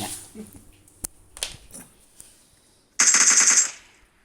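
Automatic gunfire from a mobile battle royale shooter, PUBG Mobile, comes first as a few scattered sharp shots, then as a loud close burst of rapid fire lasting under a second near the end.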